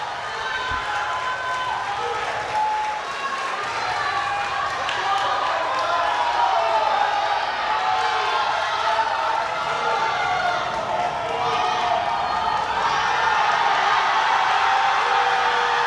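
A crowd at a powerlifting world championship cheers and claps throughout, with sustained roaring voices and whoops that swell slightly partway through.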